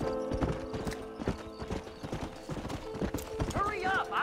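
Rhythmic clip-clop of a war horse's hooves at a trot in Red Dead Redemption, with a voice speaking over the steps and a brief whinny near the end.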